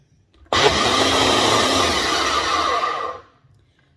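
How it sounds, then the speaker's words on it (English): A Ninja blender whirring at full speed while blending green seasoning, a loud steady motor roar that starts abruptly and runs for about three seconds before spinning down. "So we're gonna go ahead and blend it"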